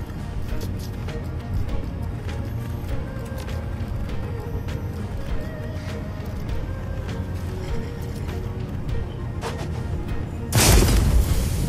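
A grenade detonates in the video game Shadowrun: Hong Kong, a loud, sudden burst near the end that cuts through a steady low game soundtrack.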